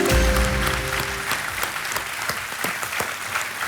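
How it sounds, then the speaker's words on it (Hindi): A KBC studio audience bursts into dense, sustained applause that fills the room, with a brief tonal chime at the start, steady and loud throughout. "ताली बज गई पहले से ही"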